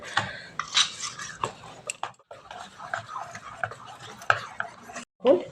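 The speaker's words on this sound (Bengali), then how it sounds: "আমি এটা খুব ভালো করে একটু ফেটিয়ে নিচ্ছি" Batter of semolina, flour and sugar is whisked in a cup, making rapid clinking and scraping strokes of utensil against the cup. The strokes come in an irregular rhythm, close and fairly clear, with brief pauses between bursts.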